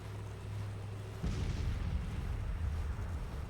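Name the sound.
artillery fire in Grand Tactician: The Civil War video game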